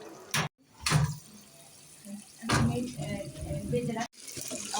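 Water is poured into a pot of meat cooking for kacchi, heard as a close, uneven splashing gush in several bursts with short breaks between them.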